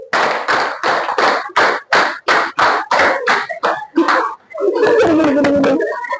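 A group claps out a counted rhythm exercise, a steady run of about a dozen sharp, evenly spaced claps, followed by overlapping chatter and laughter from the group.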